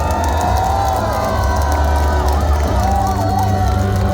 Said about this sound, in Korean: 여러분 큰 박수와 환성 부탁드립니다.